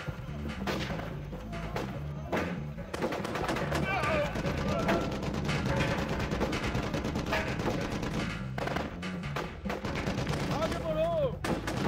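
Gunfire and heavy explosive booms from a Hindi-dubbed Hollywood action movie about a military crash rescue, loud and continuous, with bursts and thuds layered under music and shouted dialogue throughout.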